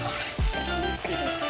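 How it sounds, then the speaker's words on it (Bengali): Spice paste is fried with onions in a pan for a tarka, giving a soft continuous sizzle with occasional stirring knocks up close. "মশলাটা কষানো হচ্ছে।"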